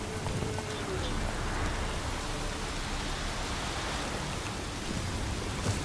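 Rain falls in The Witcher 3: Wild Hunt, a steady broadband hiss of downpour that runs without a break through the whole stretch, with no speech over it.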